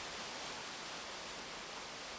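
A waterfall roars in a valley below the path up to Sudoam hermitage on Sudosan mountain. The rushing water makes a steady, dense wash of sound with no pauses and no voices.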